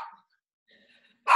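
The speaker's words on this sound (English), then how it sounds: "Okay, those are the dogs, everyone." Pet dogs at a door, giving a short bark at the start and another louder bark at the end, with near silence between, heard indoors during a podcast recording.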